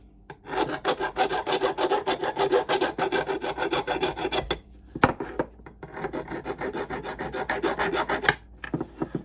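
Close, rhythmic rasping of a file scraping back and forth in quick strokes on a mushroomed NSU Quickly moped crankshaft end, two long bursts separated by a short pause and a clunk.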